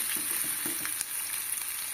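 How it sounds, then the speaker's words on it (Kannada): Onions frying in a pan for upma, a close steady sizzle with small crackles and light stirring scrapes, no voices. "ಒಂದು ಸ್ವಲ್ಪ ಫ್ರೈ ಮಾಡ್ಕೊತೀನಿ ಉಳ್ಳಾಗಡ್ಡಿ ಎಲ್ಲ"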